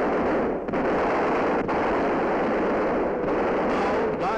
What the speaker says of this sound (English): Gunners beating off enemy planes.